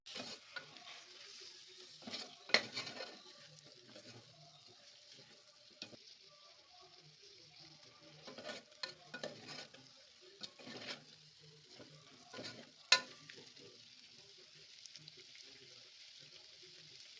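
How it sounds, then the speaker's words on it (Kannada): A whole capsicum, sliced, frying in a pan for mushroom biryani: a faint, soft sizzle with occasional spoon scrapes and a few sharper clinks, quiet and close, no voices. "ಈಗ ನಾನು ಒಂದು ಫುಲ್ ಕ್ಯಾಪ್ಸಿಕಮ್ ನ ಈ ತರ ಸ್ಲೈಸ್ ಆಗಿ ಕಟ್ ಮಾಡಿ ಹಾಕೊಳ್ತಾ ಇದ್ದೀನಿ"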